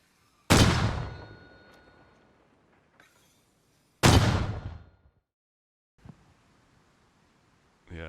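Two heavy, booming mortar impacts from a tactical shooter video game, one at the start and another about three seconds later, each with a long rumbling decay, followed by faint scattered thuds.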